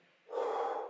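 After a quiet moment, a single heavy, breathy exhalation rushes out loud and close during a cardio workout at home and is held for most of a second.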